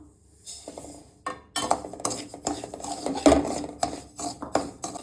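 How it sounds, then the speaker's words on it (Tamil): A spoon scrapes and stirs dry semolina around a metal pan as it roasts, with rhythmic rasping strokes and occasional clinks against the pan, close and fairly loud. "வாணலியில் ரவையை போட்டு வறுத்துக்கலாம்."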